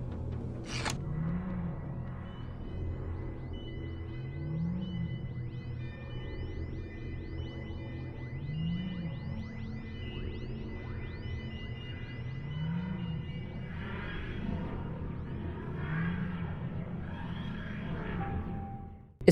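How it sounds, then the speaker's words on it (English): The TARDIS rematerializes in Garry's Mod with a slow, rising and falling wheezing groan that repeats about every four seconds under high beeping tones. It sounds fairly quiet with a slight echo and ends in a sharp thud. "the rematerialization sound is pretty similar to the DMAT one"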